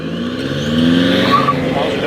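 A BMW X1 25d launching from a standstill with two people aboard, its engine rising in pitch in a smooth strong acceleration heard from inside the car, loud and continuous.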